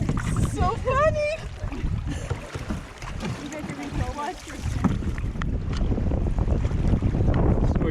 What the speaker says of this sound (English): So we're just paddling through Moose Narrows. We got a nice tailwind